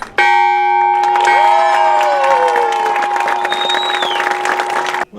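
The bronze ship's bell of the Mayflower II rings out in a single strong, sustained strike at a public ceremony, its bright overtones ringing on and slowly decaying while a crowd murmurs and cheers in the background.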